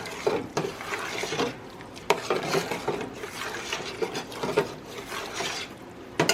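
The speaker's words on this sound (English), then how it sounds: "Give it a quick stir." A spoon stirs vegetable soup in a pot of freshly added water, giving repeated soft scraping and sloshing strokes with a few sharper clinks against the pot, close and steady throughout.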